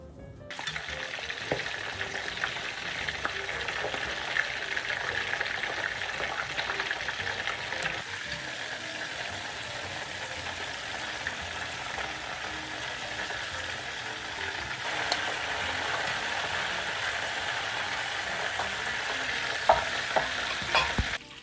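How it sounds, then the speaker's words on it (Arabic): Peppers frying in hot oil, heard as a steady, close, even sizzle with faint crackles that runs alone throughout. "في الاثناء باش نحط قرينات الفلفل يتقلاو."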